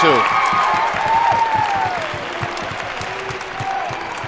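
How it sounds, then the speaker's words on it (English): Home crowd at a high school playoff basketball game in Nashua, cheering and clapping in a steady rhythmic chant, loud and continuous, with a whistle and scattered voices in the arena. "that's got the home crowd chanting defense"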